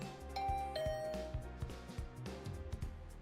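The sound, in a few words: doorbell ringing in the video game The Hundred Line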